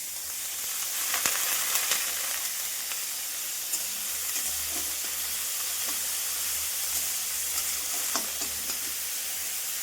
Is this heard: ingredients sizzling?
yes